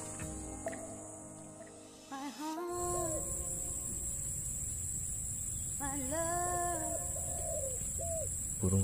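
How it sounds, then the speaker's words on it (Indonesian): Doves or pigeons coo in a garden of banana trees, with repeated soft rising-and-falling coos from nearby set against a steady high insect drone. "Burung lagi pacaran."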